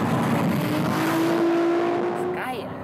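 Tuned Toyota Supra with a loud, heavy-duty gearbox driving on the road, a steady engine drone with a sustained whining tone that rises slightly, fairly loud and continuous, fading a little at the end.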